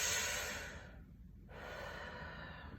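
A person demonstrates vertical breathing, drawing a long, close inhale, pausing briefly, then continuing with a steady airy breath, heard alone without talk.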